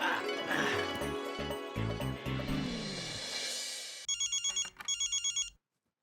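A telephone rings in rapid electronic bursts, two short trains of pulses, loud and close, right after background music fades, then cuts off abruptly.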